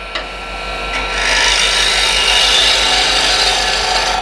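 A woodturning tool cuts big shavings from a piece of wood spinning on a lathe, producing a steady loud rasping, scraping rush that builds after a brief start and continues without break.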